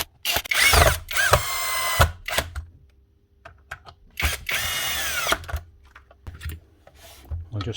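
A cordless power driver runs in two long whirring bursts, plus several short blips, as screws go back into the housing of a broken DeWalt nail gun. It is close and loud, with handling clatter in between.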